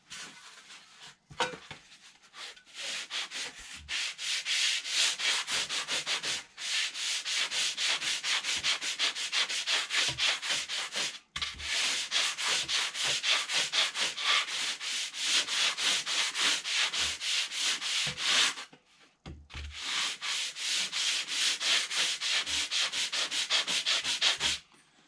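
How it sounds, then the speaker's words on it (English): Steady scratchy rasp of sandpaper on a 48-inch sanding bar rubbed back and forth along a wooden aircraft wing, long continuous strokes with a few brief pauses, close and fairly loud. "I was letting the sandpaper do the work"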